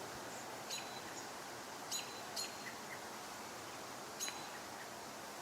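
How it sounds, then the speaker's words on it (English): American robins give sharp, high chirps outdoors, four or five short calls spaced irregularly over a faint background hiss, fairly distant and with no talk. "really disturbed these robins"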